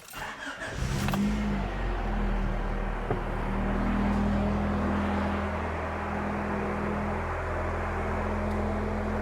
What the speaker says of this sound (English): So we're going to start the car, and we have 30 seconds to do that